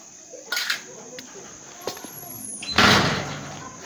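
A woman in Kampala shuts her door during a curfew lockdown. A few light knocks and clatters lead up to one loud closing thud, heard close amid a faint hum and occasional birds.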